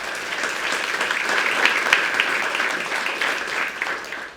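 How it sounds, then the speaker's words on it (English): Steady round of applause from the crowd at a West Virginia University men's basketball coach introduction, dense clapping that swells slightly midway and then fades toward the end. "Give them a round of applause."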